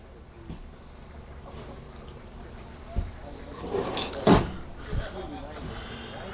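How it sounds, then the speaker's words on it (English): A drawer glides on roller guides inside a Forest River Wildwood Lodge 392QBBS travel trailer, giving a few short rolling and knocking sounds with a louder thump near the end, close by amid quiet room noise and some talk. "Look at the roller drawer guides now."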